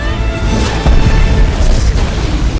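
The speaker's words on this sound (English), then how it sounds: "Yelena takes electric batons and jams them into the turbine, causing the ship to explode and blow up Dreykov and the guards." A ship explodes in a film scene, a dense, loud, sustained rumbling boom that fills the whole moment and then cuts off abruptly.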